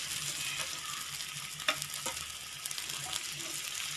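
Colocasia-leaf rolls made with moong dal, deep-frying in hot oil, give a steady broad sizzle throughout with a few faint clicks and pops, moderately close and with no talking.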